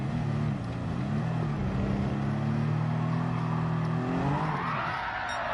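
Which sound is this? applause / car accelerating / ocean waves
car accelerating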